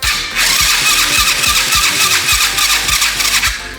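A 125cc turbo go kart engine with EFI cranks on a weak battery, a loud, close, uneven chugging of starter turns and engine pulses running continuously for several seconds without catching, with no talk.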